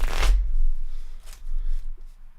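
A deck of sleeved Flesh and Blood trading cards is riffled in one crisp burst, followed by softer shuffling as the cards settle, heard alone at close range.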